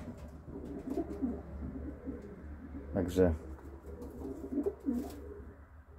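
Pigeons coo softly in a breeding loft, low repeated calls under a man's speech, with a brief louder flutter or scuffle midway.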